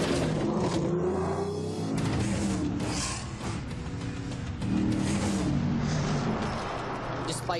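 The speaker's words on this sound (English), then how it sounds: "Oh my gosh, I cannot believe how hard I'm pushing this truck right now." Ford Raptor pickup truck driven hard off-road, its engine roaring and revving loudly and continuously with shifting pitch, close up, mixed with rumble and some voice underneath.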